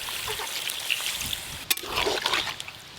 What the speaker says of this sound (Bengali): এবার সামান্য একটু জল দেবো